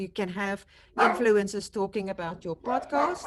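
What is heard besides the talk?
dogs barking in the background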